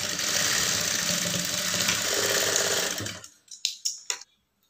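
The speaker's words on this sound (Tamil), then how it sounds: "அப்படியே வச்சுட்டு தையல் போட்டுக்கலாம்." A sewing machine stitches a lined blouse sleeve, a loud continuous whirring run for about three seconds, then a few short separate bursts before it falls silent.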